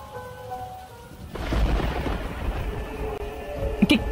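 A thunderstorm breaks outside: after a quiet moment a deep rolling rumble of thunder swells and holds, with steady rain hissing over it and a few sharper knocks near the end.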